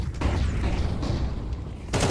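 SMG gunfire in a Counter-Strike match, heard as a dense, loud burst of rapid shots with a brief lull before another sharp volley near the end.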